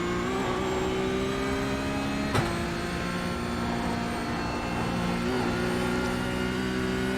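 Porsche Cup race car in the iRacing video game at Mount Panorama, a sustained, steady engine drone with a constant tonal hum and one brief sharp click midway, no voices.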